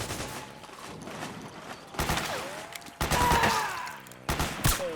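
Suppressing gunfire rattles in Metal Gear Solid 4, bursts of rapid shots and impacts arriving in loud clusters, mixed with swooping game effects and no clear speech.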